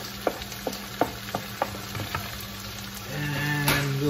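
Green onion cooks in a pan: a run of sharp utensil taps and scrapes at an uneven rhythm gives way to a steadier, louder sizzling hiss near the end, close by, with no talking.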